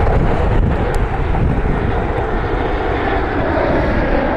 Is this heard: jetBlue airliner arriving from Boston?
yes